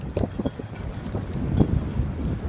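Wind buffets the microphone outdoors on a cold February morning at a boatyard, low rumbling gusts with irregular thumps, close and fairly steady, no voices.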